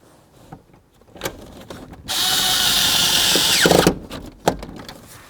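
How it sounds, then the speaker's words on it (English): Power driver running screws into a 1994-2004 Chevy S-10 combination switch under the steering column: a sustained whir of nearly two seconds, framed by scattered clicks and handling knocks close by. "let's put in our other screws under here."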